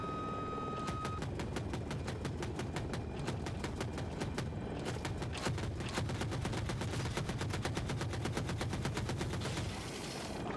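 Machine gun fire from the Super Hokum attack helicopter in a video game, a loud, continuous rapid burst of evenly spaced shots lasting around ten seconds.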